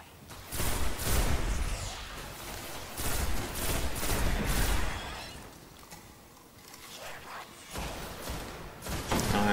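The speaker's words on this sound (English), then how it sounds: "I love my sniper rifle." Sniper rifle fire in the video game Destiny comes through amid a dense game mix of shots and clattering mechanical effects, loud and sustained early, easing off in the middle, then picking up again.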